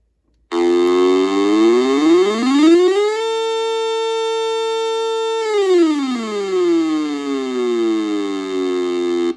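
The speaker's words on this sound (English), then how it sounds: "are we ready to try a siren test of this radio?" A weather alert radio's siren test: a loud electronic siren rises in pitch, holds a steady piercing tone for a couple of seconds, then falls and rises again.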